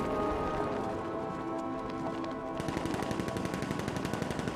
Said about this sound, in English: someone's opening fire